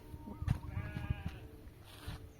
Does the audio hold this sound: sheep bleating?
yes